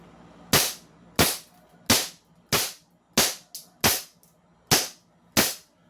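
Eight sharp airsoft gun shots fired at a target, spaced at an even rhythm of roughly one every 0.7 seconds, each a crisp snap with a quick decay, close and clear with no talking.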